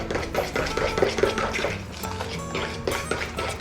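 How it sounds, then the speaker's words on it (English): Banana bread pudding ingredients with vanilla being stirred in a bowl, busy clinking and scraping of a utensil against the dish in a steady rhythm, close and fairly loud. "Now we want to mix this good."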